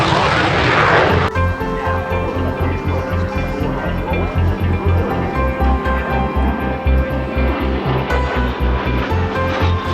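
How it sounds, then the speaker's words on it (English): An A-10 Thunderbolt jet at an airshow roars loudly and steadily, a continuous droning whine with a rhythmic pulsing beneath it, close by and dominating throughout. "The U.S. Air Force Air Command brought several planes, including this A-10 Thunderbolt."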